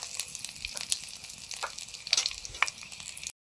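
Panch phoron five-spice and dried red chillies crackle and sizzle in hot mustard oil, a soft steady frying hiss with a few sharp pops near the end, heard alone.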